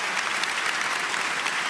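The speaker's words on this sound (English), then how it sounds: "it's your applause." An audience at a soil conference breaks into a dense, steady burst of applause, brief and uniform with no speech over it.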